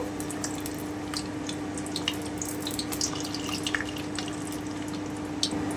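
Fenugreek seeds fry in hot oil over low heat for a fish curry, making a soft, steady crackle of small pops and spits close by.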